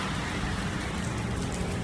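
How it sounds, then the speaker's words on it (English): Warm tropical rain in Southeast Asia falls steadily, a dense, even hiss of drops on surfaces with no pauses, moderately quiet and alone. "It's raining as usual, but so warm."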